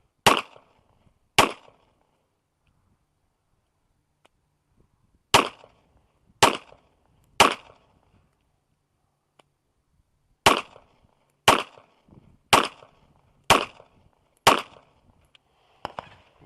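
A Polymer80 G34 pistol fires weak-handed, giving eleven sharp, loud shots. Two come early, then a group of three, then a faster run of six near the end, with quiet gaps between.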